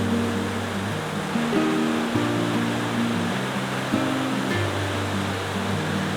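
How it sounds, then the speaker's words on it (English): Mountain waterfall fed by fast-flowing snowmelt, a loud, continuous rushing roar heard up close, steady throughout with no voices. "Looks like there's a waterfall down here that I didn't know about"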